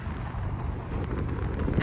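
Strong wind at coastal wetlands, a dense continuous rumble of gusts buffeting the microphone, loud and unbroken for under two seconds.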